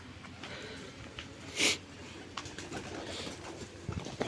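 Soft, low pigeon cooing murmurs on a rooftop as the pigeons eat, in a quiet space, with a brief rustle or flutter partway through.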